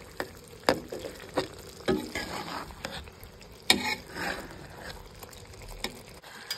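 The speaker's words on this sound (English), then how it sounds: "we're gonna give that a stir" Beef and broccoli being stirred in a pan, giving soft scraping and clacking strokes at an irregular pace over a faint sizzle.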